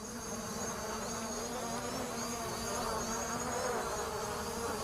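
A Cinemaster 2 drone takes off and hovers on a windy day, its rotors giving a steady high-pitched insect-like whine that holds constant with slight pitch wavering, heard alone without talk.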